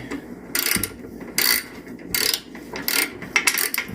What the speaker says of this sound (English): And I'm going to go ahead with my Allen key,